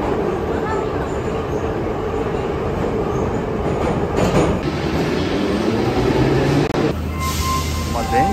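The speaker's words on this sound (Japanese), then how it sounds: "これから地下鉄乗ります" A subway train in Tbilisi, Georgia rumbles loudly and steadily, with wheel noise and a screeching squeal toward the end, heard from inside the car.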